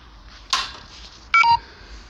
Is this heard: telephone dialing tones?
yes